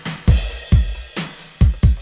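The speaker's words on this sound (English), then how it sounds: "Add a crash at the beginning, like this." Electronic drum beat, with a crash cymbal added at the start: punchy kick hits with bright splashy cymbal wash, about five strong hits over two seconds, loud and alone.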